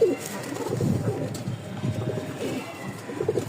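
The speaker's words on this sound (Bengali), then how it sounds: "একদম কালো কুচকুচা পাথর চোখের একজোড়া কবুতর" Pigeons coo softly and repeatedly in a low, murmuring chorus, with some faint background noise.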